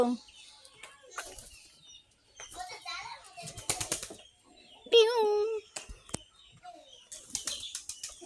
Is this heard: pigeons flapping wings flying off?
yes